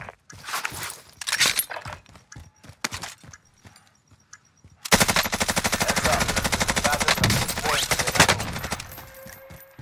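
Rapid gunfire in a shooting video game, first as scattered bursts and single shots with gaps, then a long loud continuous automatic stream close by, ending with a brief pause before more shots.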